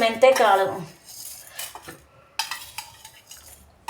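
Fenugreek seeds stirred in a pan, giving bursts of scraping and light clinking from a utensil against the metal, close and fairly loud, with a brief voice at the start.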